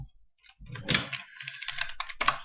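Fingers type a short burst of keystrokes on a computer keyboard, with quick, close, light clicks and taps over about two seconds.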